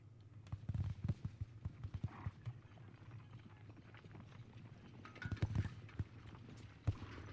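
Cavalry hooves clatter in a Napoleonic-era wargame set at the Katzbach, irregular clip-clop beats at moderate distance, bunched in small bursts with quieter gaps between them.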